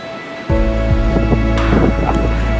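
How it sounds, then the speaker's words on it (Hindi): Strong wind at Sigiriya Lion Rock, Sri Lanka, buffets the microphone after a brief quiet start, a loud continuous roar with gusty rumbling. "बहुत तेज़ हवा चल रही है यहाँ"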